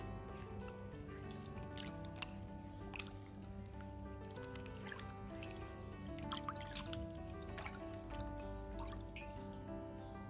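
A carrot and other vegetables are rinsed by hand in a basin of water, with faint soft splashes and drips under a steady low background hum, quiet and close.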